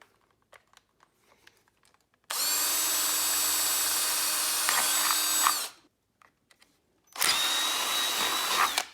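A power drill whines steadily for a few seconds while boring a hole in a plastic lid, stops, then starts again for a second run, close and loud, with faint clicks between.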